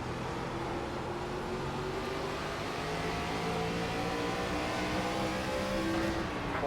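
An ARCA race car engine in a racing video game at USA Speedway: one loud, continuous engine note that drones and slowly climbs in pitch as the car accelerates, with no voices.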